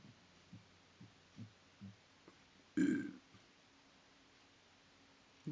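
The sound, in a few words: burp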